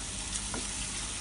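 Ginger garlic paste, two large spoonfuls, frying in a pan while being stirred for a mutton kofta curry, giving a steady close sizzle throughout with no talking.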